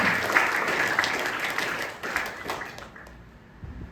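A church congregation applauds during a Sunday prayer service, dense clapping that fades gradually and dies away near the end.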